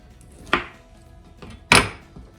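A knife cuts through a log of gluten-free maple pecan shortbread dough in two distinct slices, each landing as a sharp thunk on the board, with quiet pauses between.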